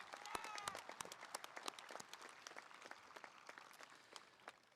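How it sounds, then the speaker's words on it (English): A crowd at a high school graduation applauds with dense, sustained clapping that slowly thins out, heard from a little distance in a large room. "Let's give them a round of applause."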